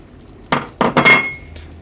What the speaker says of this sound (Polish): Ładnie to teraz wymieszamy.